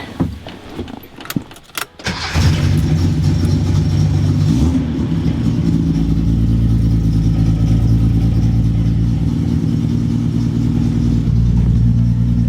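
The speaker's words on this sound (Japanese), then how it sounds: "マフラーのガタガタしているんだけど、音がいいよね。" A few jingling clicks, then a Datsun 240Z (Fairlady Z S30) engine starts and settles into a loud, rough, rumbling idle with a rattling, loose muffler.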